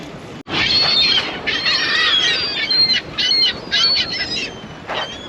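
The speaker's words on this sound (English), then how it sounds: "we're filming seagulls" Seagulls squawk loudly and close by in a series of harsh, repeated calls with short gaps between them.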